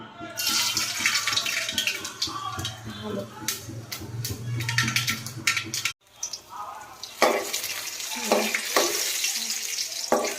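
Mustard seeds and urad dal fry in hot oil with a crackling sizzle and stirring clatter, running close throughout with a brief break midway, while someone talks over it.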